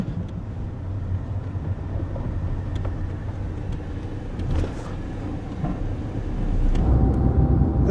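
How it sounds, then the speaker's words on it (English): A white car trailing close behind on the road, its engine and tyre rumble steady and moderately near, growing a little louder toward the end with some faint clicks and rattles inside the vehicle. "That's the car that's been on our ass?"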